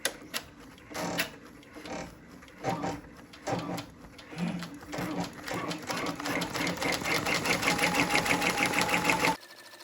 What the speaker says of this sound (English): now it's ready to do the actual satin stitch